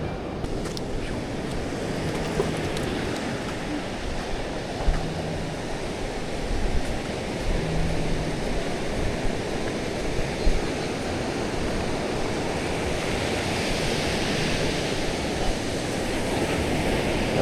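Ocean surf rolls steadily onto a barrier island beach near an inlet at Topsail Beach, North Carolina, a continuous broadband wash with wind noise buffeting the microphone and no clear individual wave breaks standing out.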